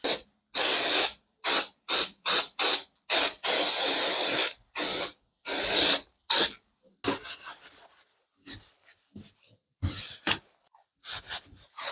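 Degreaser sprayed onto a rusty old guillotine in repeated short hissing bursts for the first half, followed by quieter intermittent rubbing and wiping sounds, close up with no speech.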